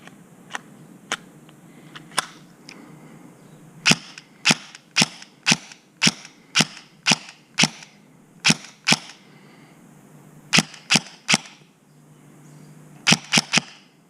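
A 3DG Glock 17 Gen 4 gel blaster fires Alpha King gels in an outdoor range test, giving sharp, snappy pops, some single and others in quick strings of four to six, over faint background ambience.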